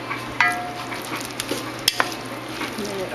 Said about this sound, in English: Get it all stirred up.